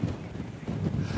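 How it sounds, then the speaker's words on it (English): Strong wind on the coast at Hengistbury Head buffets the microphone in a continuous low, gusty rumble, with no voices. "I'm at Hengistbury Head, a very, very windy Hengistbury Head"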